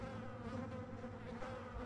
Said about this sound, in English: Lots of insects in this supposedly non-insect environment